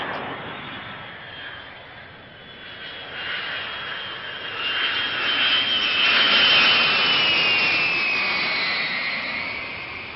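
Supersonic Concorde jet engines roar in a steady, loud wash that swells toward the middle and holds, with no voices over it.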